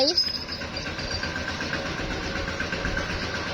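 A tractor engine runs steadily close by with a rough, vibrating mid-range drone and no clear pauses, while people chatter over it.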